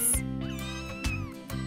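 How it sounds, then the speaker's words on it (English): Three newborn kittens in an animated cartoon give a few short, high meows, close and clear over a steady musical backing. "Three beautiful kittens."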